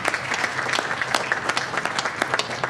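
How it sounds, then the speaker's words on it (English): Crowd applause at a school board of education meeting, many hands clapping in a lively, uneven patter that carries on throughout. "I think that deserves a round of applause."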